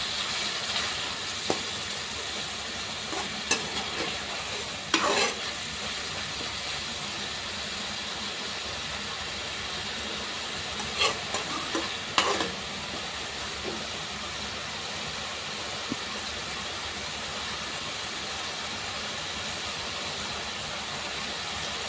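A paste of ginger, garlic and fennel sautés in a pan, giving a steady close hiss with a few sharp scrapes of stirring scattered through and no voices.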